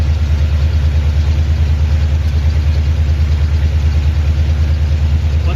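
A classic Ford Mustang engine idles while warming up, a steady, close, unbroken low rumble throughout with no one talking.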